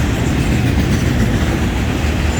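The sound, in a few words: freight train with auto racks passing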